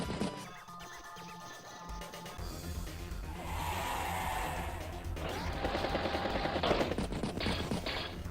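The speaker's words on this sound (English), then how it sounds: "Anti-air does hit the battlecopter" Rapid mechanical gunfire from an anti-air unit striking a battlecopter in the strategy game Advance Wars, a dense burst of repeated shots over game music, steady and fairly loud throughout.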